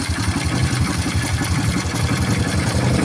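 Car engine idling roughly, apparently from a carburetor problem and a worn rocker arm, producing a steady, loud, low uneven chug that continues throughout with no talk.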